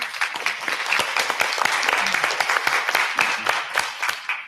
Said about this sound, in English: Let's give these women a round of applause.